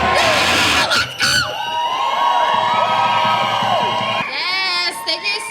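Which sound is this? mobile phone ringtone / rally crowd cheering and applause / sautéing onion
rally crowd cheering and applause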